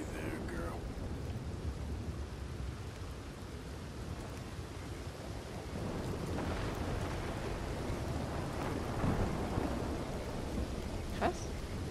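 Steady rain hissing in a thunderstorm in the video game Red Dead Redemption 2, with soft rumbles of distant thunder building toward the end, with faint voices now and then.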